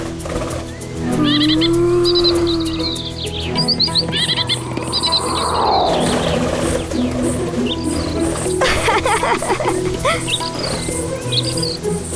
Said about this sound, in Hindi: इतने सुंदर पक्षी।